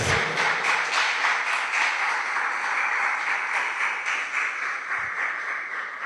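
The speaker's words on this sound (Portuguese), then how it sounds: "Você pode aplaudir a Jesus" A church congregation claps during a worship service, a dense, steady burst of applause that starts loud and tapers slightly over several seconds, with no talking over it.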